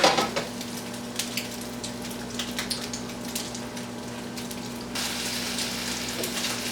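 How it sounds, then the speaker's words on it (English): A battered Monte Cristo sandwich of meat and cheese fries in a pan with a steady, even sizzle, close up, with a few faint clinks and no talking. "So that's why it's easier just to batter it and let it fry in the pan."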